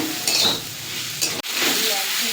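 Chopped onion and capsicum drop into a hot pan with garlic, giving a steady close sizzle and frying hiss, with stirring and a sharp metallic clink of utensil on pan midway.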